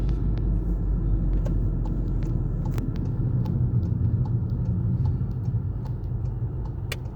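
Inside a car driving near Mount Tabor, Halifax, a steady low engine and road rumble runs throughout as the car pulls over to stop on the pavement, with faint ticks and clicks above it.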